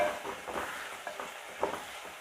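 Small shallots and big onions sautéing together in a pan, a faint low sizzle with a few soft stirring scrapes, quiet and brief, no speech.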